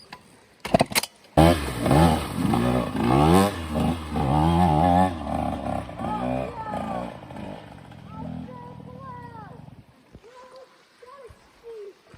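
A small engine revs up and down repeatedly, whining through rising and falling pitches nearby, before settling down with a few brief voices.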